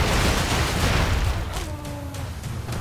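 Chaotic bursts of explosions and gunfire from the run-and-gun video game Broforce, loud dense booms at first that thin into scattered pops, with a brief tonal effect in the middle.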